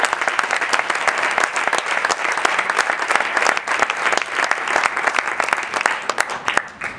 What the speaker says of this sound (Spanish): Pues un aplauso para ellos también